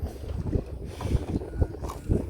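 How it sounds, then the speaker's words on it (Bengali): Strong wind buffets a moving village wooden boat, rumbling gusts pulsing several times against the microphone over a steady rush of air and water. "আর বাতাস না প্রচুর বাতাস"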